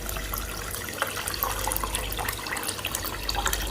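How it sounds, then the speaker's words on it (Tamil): Water is poured into a pot to cook rice for chicken fried rice, giving a continuous splashing, gurgling stream at close range over a low background hum. "தேவையான அளவுக்கு தண்ணி ஊற்றியாச்சு."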